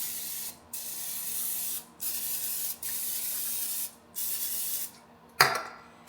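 Cooking spray hissed onto potatoes in steady bursts of about a second each with short pauses between, close and clear, ending with a sharper rattle.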